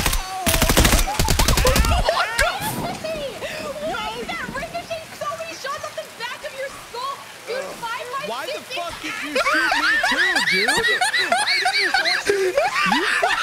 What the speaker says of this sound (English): someone's shooting us right now